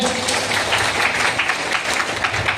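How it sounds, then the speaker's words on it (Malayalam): Steady clapping from a congregation at a prayer meeting, a dense, even wash of many hands that carries on without a break for a few seconds, with no speech over it. "ഒന്ന് കൈയടിച്ച മക്കളെ"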